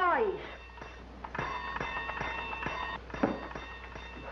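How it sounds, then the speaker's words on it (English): A bell rings with steady, sustained metallic tones through the clip while voices talk over it in an old film scene. "stop ringing that bell"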